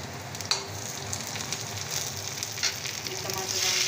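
Tomatoes hit a hot pan for bottle gourd kofta curry and set off a loud, close sizzle, with a sharp crackle at the start and a frying hiss that builds toward the end.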